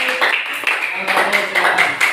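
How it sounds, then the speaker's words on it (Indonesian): Students clapping together in a classroom during a lesson, a short burst of scattered hand claps with a few sharper individual claps, mixed with background voices. "Oke, tepuk tangan."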